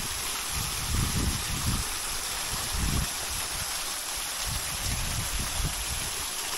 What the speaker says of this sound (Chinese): 这个瀑布看起来就是蛮秀致的，一处蛮漂亮的瀑布